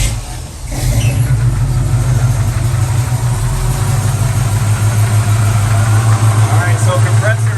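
Air conditioning compressor on a car kicking in and running steadily with an electric cooling fan, a constant low engine-like hum and drone close by after a brief dip at the start, with no talking.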